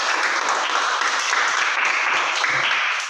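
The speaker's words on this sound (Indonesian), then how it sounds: "tepuk tangan" Applause from a class of children, a dense continuous wash of many small hands clapping together for the whole stretch, steady and fairly loud indoors with no individual claps standing out.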